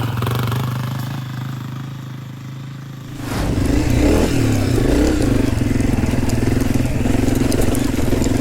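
Honda CRF250F enduro motorcycle on single track, first idling and puttering softly, then the engine revs up loud and close as the rider accelerates and holds speed, with no talk.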